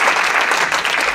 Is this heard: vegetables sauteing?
no